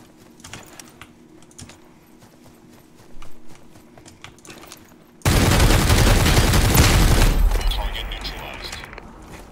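Light, rapid footsteps of someone running nearby in the battle royale game Super People sound as faint rhythmic taps, then a sudden loud, sustained roaring burst swamps them and slowly fades.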